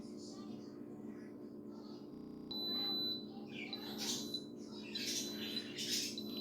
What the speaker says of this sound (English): once my Instant Pot has beeped